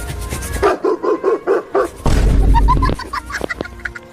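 A dog barks in a quick series of about six sharp woofs, close and loud, followed by a burst of noise and a few higher yips or whimpers.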